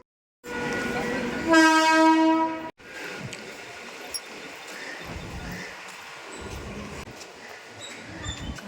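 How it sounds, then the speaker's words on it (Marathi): A commuter train pulls into Kanjurmarg station, sounding a loud, sustained horn blast before settling into a steady rolling rumble and clatter of carriages. "आता मी ट्रेन पकडली होती आणि कांजूर स्टेशन आता येणार आहे"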